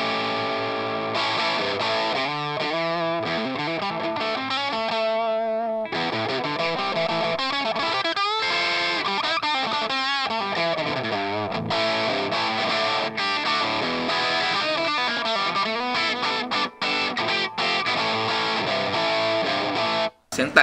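A distorted electric guitar played through a vintage-style amp model on a Line 6 POD HD500X multi-effects unit, with crunchy chords and melodic runs continuing for about twenty seconds, loud and clear with no talking.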